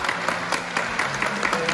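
Wedding guests in a hall clap steadily for the bride's entrance, a brief continuous burst of applause from a moderately sized crowd.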